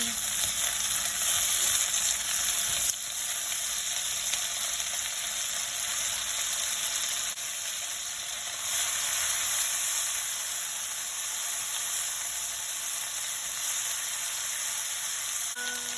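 Onion, garlic and shrimp paste (bagoong alamang) sizzle steadily in a hot pan, a loud continuous frying hiss that carries on alone for about sixteen seconds.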